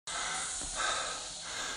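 Heavy, winded breathing of someone out of breath during a Tabata workout, a steady close breathy hiss with a few stronger exhalations and no speech.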